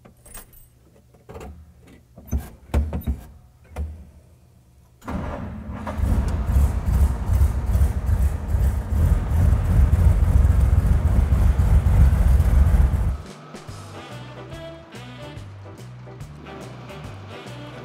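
A Diamond T truck roars to life after a few clanking handling sounds, its engine running loud and steady for several seconds before dropping to a lower, uneven rumble with rhythmic knocks as it pulls away.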